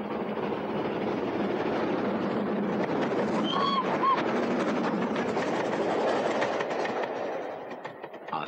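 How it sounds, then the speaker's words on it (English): Scottish main-line steam train between Fort William and Mallaig, a steady loud rolling rumble with rail clatter throughout, easing slightly near the end. "visitors to Scotland during the summer months will find regular steam trains operating between"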